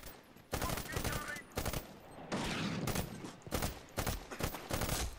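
Rapid gunfire in a multiplayer match of Medal of Honor Warfighter crackles in several loud bursts, with bursts of automatic fire separated by short gaps and faint background game noise between them.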